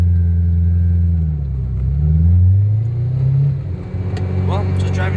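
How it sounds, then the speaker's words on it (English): A 1992 Ferrari 348tb fitted with a tube exhaust rumbles along a street, its deep engine note swelling and easing as it cruises, close and loud. "the added tube exhaust gives this car a proper soundtrack to accompany such a strong Ferrari"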